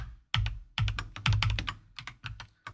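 Keyboard typing while entering shortcuts in an Excel spreadsheet, crisp close key clicks arriving in irregular bursts of several quick taps with short pauses between them.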